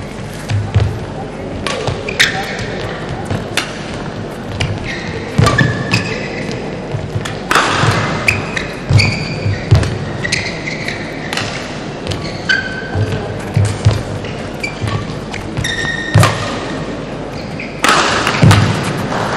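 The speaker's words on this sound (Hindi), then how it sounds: "बहुत ही शानदार जंपिंग स्मैश था इस समय रघु का" Indoor men's team badminton quarterfinal rally: sharp shuttlecock hits and squeaking shoes echo in a hall, with irregular thuds, a powerful jumping smash and scattered crowd noise.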